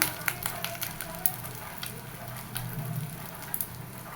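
Egg fritters fry in hot oil with a soft continuous sizzle and scattered crackling pops close by, fairly quiet, with no one talking.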